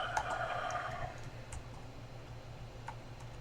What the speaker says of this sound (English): Typing when people are watching you is just stressful, man.